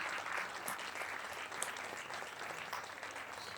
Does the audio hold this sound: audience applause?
yes